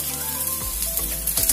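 Cut cauliflower stalks, vegetables and large chunks of eggplant sizzle steadily in a hot pan, a constant close frying hiss with a few light stirring scrapes.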